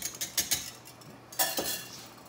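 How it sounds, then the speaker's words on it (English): A utensil stirs pasta in a metal pot, giving a few close clinking scrapes in two short bursts, with no talking. "we're going to stir up the pasta here a little bit."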